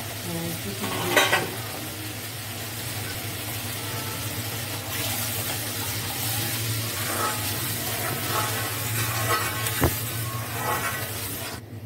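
Tilapia kalia curry masala sizzling and frying in a pan, a steady loud hiss with stirring clatter as water is poured in, continuing as a constant bubbling sizzle throughout.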